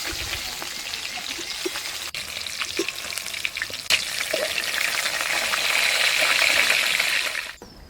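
Pieces of fresh Katla fish fry in hot oil in a pan, giving a dense, steady close sizzle with faint stirring clicks that swells slightly toward the end before cutting off. No voices.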